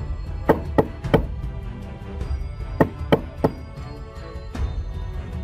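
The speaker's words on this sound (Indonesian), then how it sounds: "ia dikagetkan oleh bunyi suara pintu rumah diketok." Knocks on a wooden house door, struck in short clusters of two or three sharp raps with pauses between, fairly close and clear over a low background hum.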